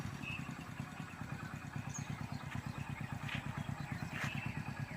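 A motorcycle idles steadily during an RTO figure-eight driving licence test, its close, even putter pulsing rapidly and evenly throughout.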